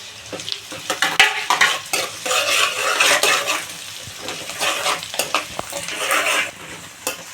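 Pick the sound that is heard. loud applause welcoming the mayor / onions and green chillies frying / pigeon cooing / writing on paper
onions and green chillies frying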